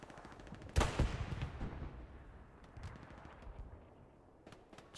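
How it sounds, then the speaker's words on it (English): Explosive rocket hits and gunfire strike a Panzer IV tank during a Hell Let Loose World War II match on the Mortain map, with a sharp loud blast followed by rumbling impacts and scattered shots fading into distant battle noise. "but the Panzer IV is getting rocketed"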